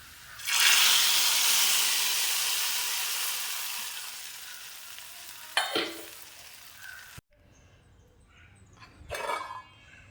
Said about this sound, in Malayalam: ചെറിയ ഉള്ളിയൊക്കെ നന്നായിട്ട് എണ്ണയിലൊന്ന് വാടിയിട്ടിട്ട് ഇത് കറിയിലേക്ക് ഒഴിച്ചു കൊടുക്കുവാനേ